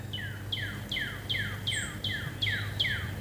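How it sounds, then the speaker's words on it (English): A bird outdoors repeats a bright, sharp descending chirp about eight times in an even rhythm, fairly close, over a low background hum. "Listen to those birds."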